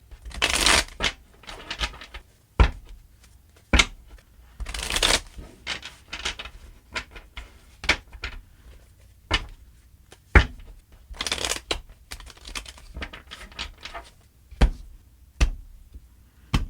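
Tarot cards being shuffled by hand, heard as crisp riffling bursts and sharp slaps close to the mic, arriving in irregular clusters with quiet pauses between.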